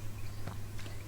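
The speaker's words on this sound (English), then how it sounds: "bro's munching without even saying a word" A person munches food after a long day on safari in Africa. Two soft, close chewing crunches sit over a steady low hum, with no talk.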